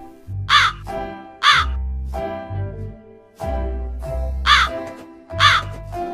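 A cartoon story sound effect of a crow cawing: six loud, harsh caws in a rhythmic series, close and alone, with short pauses between calls.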